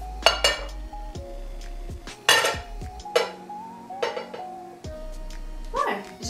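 A ceramic plate clatters and clinks against a glass Pyrex dish at close range as it is set on top as a cover before microwaving, with several sharp knocks and scrapes and a steady low hum underneath.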